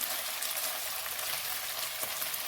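Cooked basmati rice tipped into a hot pan for chicken fried rice sets off a steady bright sizzle with light crackling, close and even throughout, no talking.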